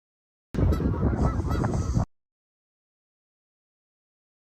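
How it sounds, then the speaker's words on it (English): A goose honks loudly and repeatedly by a lake for about a second and a half, then falls silent, with another brief honk at the very end. "Noisy bird."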